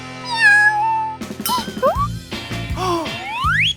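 A cat meows a few times in short, rising and falling cries, close and clear, mixed with a few odd springy sound effects.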